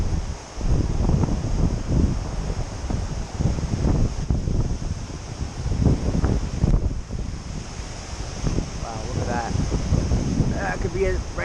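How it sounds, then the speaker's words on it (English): Gusty wind from tropical storm Nicholas rushes and buffets loudly near the coast, rising and falling in surges, while people talk briefly beneath the roar. "Every once in a while we'll get a really strong wind gust."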